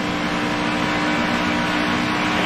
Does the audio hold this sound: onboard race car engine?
yes